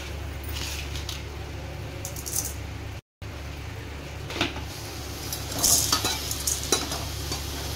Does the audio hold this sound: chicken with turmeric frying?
yes